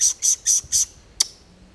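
A man on Montserrat imitates a bird call with four evenly spaced, shrill whistled notes, then a single short chirp after a pause. The notes are close, clear and alone.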